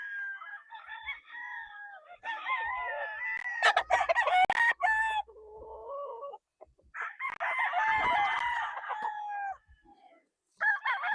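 Several sweater gamefowl roosters at a game farm crow loudly and repeatedly, long harmonic calls in overlapping bursts from nearby birds, with clucking in between and brief pauses.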